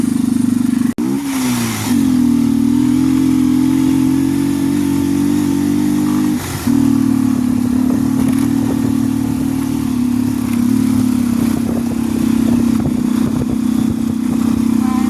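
A motorcycle engine drones steadily up close, its pitch shifting slightly, with bumps and rattles as it rides over an uneven surface.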